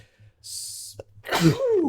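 A single loud, close sneeze with a sharp breathy burst, followed by a brief vocal gasp, in a quiet indoor room.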